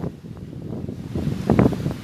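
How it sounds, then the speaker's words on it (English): Strong hurricane wind during Hurricane Ida roars in steady, noisy gusts against the microphone, building toward a louder rush near the end, with no talking. "The wind blowing hard."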